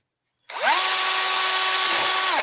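A power drill spins a cutter fast into foam for a sign: one steady, loud high-pitched whine that starts abruptly, holds level for about two seconds, dips slightly as it bites, then cuts off.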